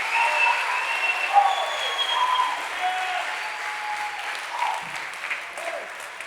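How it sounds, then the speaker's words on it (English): A church audience applauds steadily at a motivational sermon, a dense continuous patter of many hands clapping at moderate loudness throughout, with faint crowd murmur underneath. "I need somebody to clap like it's true."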